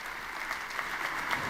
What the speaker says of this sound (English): this deserves an applause